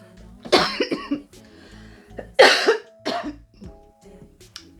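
A person coughs several times in harsh bursts, with short pauses and some throat clearing between them, close and loud.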